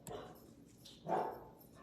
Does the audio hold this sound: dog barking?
yes